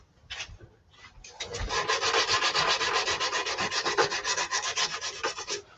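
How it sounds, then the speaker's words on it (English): A wooden heart-shaped gift box on a lathe is sanded with 120-grit sandpaper, a steady rhythmic rasping rub that starts after a couple of brief strokes and continues close and even to the end. "I'm just going to give it a quick sand with the 120."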